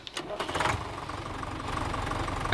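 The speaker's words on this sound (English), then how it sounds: "I forget what tractor this sounds like, but it sounds like one of the vanilla tractors from Farming Simulator" A Massey Ferguson tractor engine starting in Farming Simulator 17, a short cranking sputter catching into a steady rumbling idle that stays even and close for the rest of the clip.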